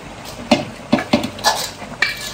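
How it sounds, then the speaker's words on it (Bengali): Braised chicken goes from a pot into khichuri in a rice cooker: a string of sharp metal clinks and scrapes, about five distinct knocks of a utensil on cookware, close up with no talk. "এই যে ঢেলে দিচ্ছি রাইস কুকারের খিচুড়ির মধ্যে"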